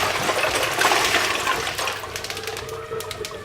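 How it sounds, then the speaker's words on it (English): A pan of cooked eggs held under a running cold-water tap, a steady close splash and gurgle of water that thins and quiets toward the end, with faint clinks. "I do this by running the pan under cold water"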